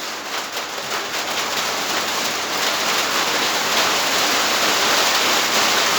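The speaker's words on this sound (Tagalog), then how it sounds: "Itong ulan, no?" Steady heavy rain falling outdoors: a dense, unbroken hiss of pouring water that stays loud and even throughout, with no voices.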